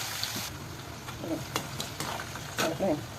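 Chopped onion with a pinch of salt frying in oil in a pan, a steady low sizzle with scraping stir strokes and a few louder knocks near the end, no talking.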